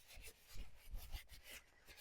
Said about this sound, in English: Now I'm going to take some Fusion's aging wax, and I'm just going to rub that on.